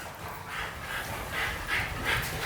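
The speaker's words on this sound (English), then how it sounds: "Here comes the pups." Dogs come in panting in a home kitchen just as a skillet chicken and dumpling dinner is being served, the quick breathy pants repeating steadily at close range with a faint whimper.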